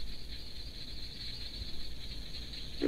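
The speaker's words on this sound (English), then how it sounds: "You'll hear cricket frogs in the background." Cricket frogs calling in Florida, a steady high-pitched chorus of fast clicking calls heard faintly from a distance over low background noise, with no voices.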